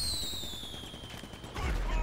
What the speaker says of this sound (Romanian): Eu nu trag cu artificii, trag cu armă